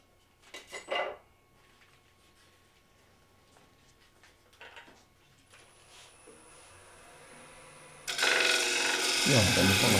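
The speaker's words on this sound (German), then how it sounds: "Deswegen also schabe ich zunächst einmal das Papier weg." A hand tool scrapes glued paper off a wood-turned bowl: a few short rasping strokes with quiet pauses between them, then a much louder, sustained scraping noise that takes over at the end.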